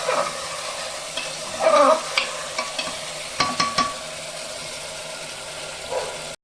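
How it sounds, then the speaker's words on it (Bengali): Chicken being stir-fried in oil in a pressure cooker, a soft sizzle under repeated close scrapes and knocks of the spoon against the metal pot, with a brief squeaky rub partway through. "বন্ধুরা, মাংসটা আমি খুব ভালো করে কষাচ্ছি, উপরে তেল এসে গেছে"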